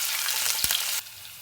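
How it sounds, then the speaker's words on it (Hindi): Ginger, garlic and green chili sauté in a hot pan with ghee, a loud close sizzle broken by one brief stir before the frying quiets. "और अब जिंजर, ये हमारा गार्लिक, ये हरी मिर्च, इनको डाल के थोड़ी देर सौटे कर लेते हैं।"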